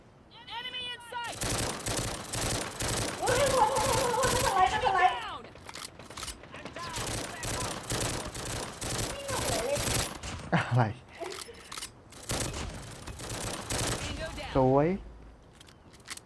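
Pistol fire in Call of Duty Mobile, with dense runs of quick shots in several bursts separated by short gaps and game sound effects, while a player talks over parts of it.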